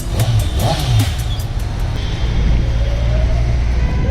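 A superbike's engine rumbles loud and near with throttle applied, a continuous deep growl that swells slightly as it revs, heard without any talk over it.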